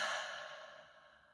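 A single soft exhale through the mouth, breathy and close, fading out over about a second with no talking.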